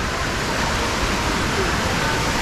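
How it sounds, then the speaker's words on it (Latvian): A steady, loud wash of falling water from a waterfall, continuous broadband roar with no breaks, close by and filling the whole moment. "Šitas te ūdenskritums."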